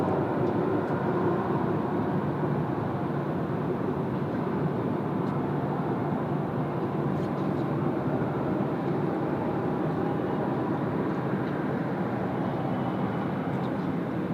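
China Southern airliner departing Sydney Airport, a steady broad jet roar that holds at constant loudness throughout, heard from a distance without talk.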